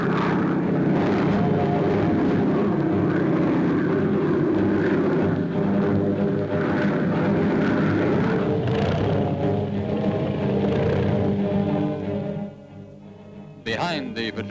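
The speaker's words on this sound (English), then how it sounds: "Over the outer waters, we maintain a constant aerial patrol." Patrol aircraft droning over outer waters in 1941 New Zealand, a steady loud engine roar that holds for about twelve seconds before dropping off, with narration heard over it.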